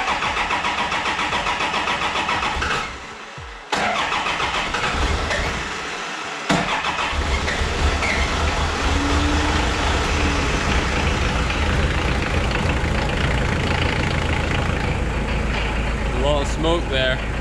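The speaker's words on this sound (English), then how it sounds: "So let's try and crank her first and see if we can get her to start." Toyota Land Cruiser Prado with a 1KZ-TE diesel engine being cranked, with brief starter dips, before it catches and settles into a loud, steady, close-up rumble.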